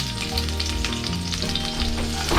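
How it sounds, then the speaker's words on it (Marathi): Chopped onion dropped into hot oil in a pan gives a loud, close, steady sizzle with crackling bursts throughout, and nobody speaks. "तेल गरम झालं त्याच्यात मी कांदा टाकतो"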